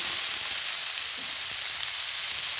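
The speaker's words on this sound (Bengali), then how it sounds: "দিয়ে দিলাম সবজিগুলি, এবার ভালোভাবে নেড়ে নেব" Mixed vegetables for a labra sizzle loudly in hot spiced oil as they are stirred, a close, constant hissing crackle with no voices.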